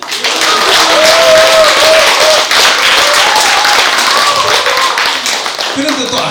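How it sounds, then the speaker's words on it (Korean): An audience at a Buddhist book launch ceremony claps in a sustained burst of applause, loud and dense, with a voice speaking over the clapping and fading toward the end. "박수 한 번."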